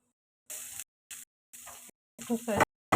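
Onions fry in a little oil in a pan, sizzling in short separate bursts with silent gaps between them, close and moderately loud, with brief speech mixed in.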